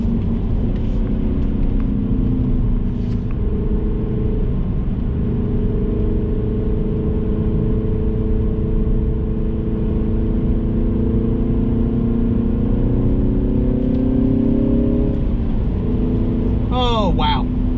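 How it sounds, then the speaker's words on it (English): A 2022 Mini Cooper S Clubman driving around a loop, its engine droning steadily from inside the cabin with a constant low rumble and road noise, rising in pitch briefly near the end. "I love driving these cars around that loop."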